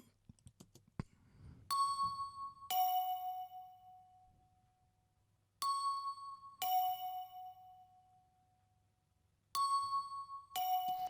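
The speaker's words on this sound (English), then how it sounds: "these are what the marimba bells sound like" Marimba bells synth in an R&B mix plays a sparse melody of bright, bell-like struck notes in pairs, each ringing out and decaying, with quiet gaps between the phrases.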